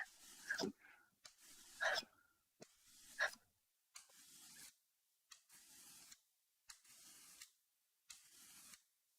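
A cabinet scraper smooths a wooden lid in a series of about eight short, rasping strokes with brief pauses between them, fairly close and moderately quiet, with no one talking.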